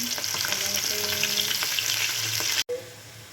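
Pabda fish fries crisp in hot oil, a continuous close crackling sizzle with faint stirring that briefly cuts out near the end and then resumes.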